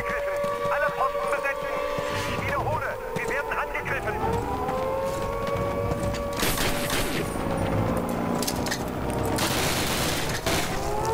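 Gunfire from the video game Call of Duty, with bursts of shots crackling over wailing siren-like tones and in-game effects. The noise is dense and busy, and voices can be heard in the mix.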